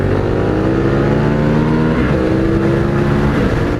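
Yamaha Tenere 700 motorcycle, a 2020 model, accelerating hard in third gear, its engine note loud and close, rising steadily in pitch over several seconds without any talking.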